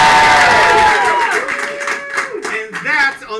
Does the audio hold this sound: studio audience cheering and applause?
yes